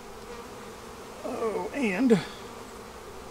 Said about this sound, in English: just bees festooning everywhere